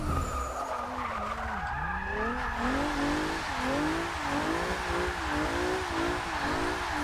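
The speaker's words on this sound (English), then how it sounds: "That all-wheel drifting right there." An all-wheel-drive car drifts in the racing game Forza Motorsport 6, its tires squealing in long wavering skids over a steady engine roar, loud and continuous throughout.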